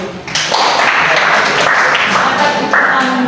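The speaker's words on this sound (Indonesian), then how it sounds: "Tepuk tangan dulu." A classroom full of students breaks into steady hand clapping, a dense, loud wash of applause that starts abruptly and holds evenly to the end, with no clear talking over it.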